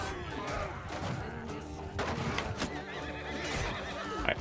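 Horses whinnying and neighing amid clip-clopping hooves in a medieval video game battle, dense and busy with clashing noise and faint distant gunfire-like cracks, one voice briefly speaking.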